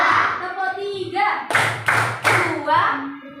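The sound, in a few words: children clapping three claps on command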